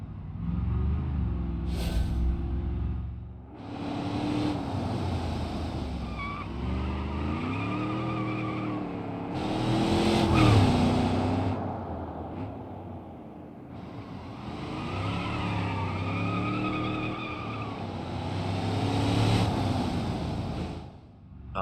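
A rally car fitted with drift tires slides and skids up a hill in the BeamNG.drive racing game, its tires squealing in long sweeps over a revving engine. The bursts rise and fall and stay loud throughout, with no talking.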